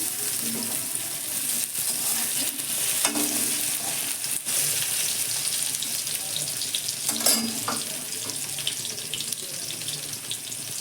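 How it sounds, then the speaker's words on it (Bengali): Potato, eggplant and carrot pieces fry in hot oil in a home kitchen, giving a steady close sizzle throughout, with brief clattering stirs and utensil scrapes rising above it. "আলু বেগুন গাজর আমি ভেজে নিয়েছি এবার তুলে ফেলছি"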